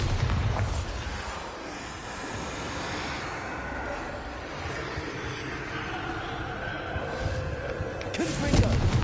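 In the video game Hogwarts Legacy, the Bombarda explosion spell gives a sustained rumbling blast and debris roar that rolls on for several seconds and builds to a louder burst at the end.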